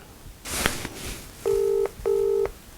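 Two steady telephone keypad dialing tones beep in sequence after a soft handling noise, each tone lasting under half a second, close and clear.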